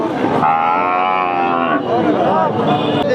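Cattle lowing loudly and repeatedly close by at a cattle market, long drawn-out moos overlapping in a busy crowded setting.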